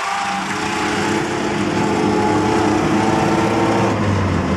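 A 1969 Land Rover engine pulling away in first gear, with a steady, buzzy, close-up engine drone that holds fairly even and rises slightly toward the end.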